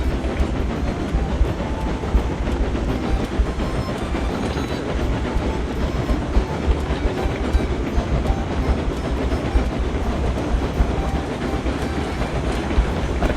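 A big train in the game Railroads Online rolls past very close, a loud continuous rumble with rhythmic clickety-clack of wheels on rail joints, steady throughout and filling the scene.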